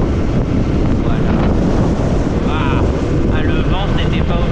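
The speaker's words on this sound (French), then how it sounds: "Ah, le vent" Strong wind gusting steadily outdoors, loud broadband rushing and buffeting against the microphone throughout, with faint voices and brief tonal sounds partly masked underneath.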